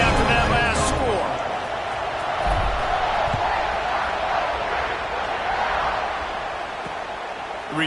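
A football stadium crowd at an SMU game buzzes loudly and steadily, a dense wash of voices and cheering that rises and swells without letup, with scattered shouts breaking through.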